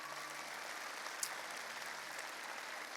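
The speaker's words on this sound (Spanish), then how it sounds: "Démosle un aplauso al Señor por la palabra." A Spanish-speaking church congregation applauds, a soft, even wash of distant clapping with one brief sharp clap standing out, steady throughout the few seconds.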